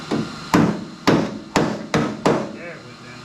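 A hammer strikes the corner of a part on a 1967 Mustang convertible six times, sharp metallic blows about half a second apart, close and fairly loud in a workshop.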